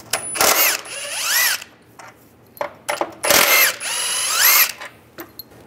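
A socket tool backs out 13mm steering rack bolts on a 1998-2010 Volkswagen Beetle: two long, loud whirring bursts with rising whine, separated by shorter clicks and ratcheting taps, close up.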